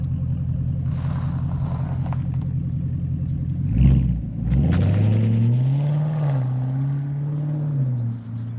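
A 2016 Chevrolet Camaro SS V8 fitted with a Hooker Blackheart exhaust cranks and fires up, then settles into a loud, deep, steady idle rumble with a slowly wavering pitch.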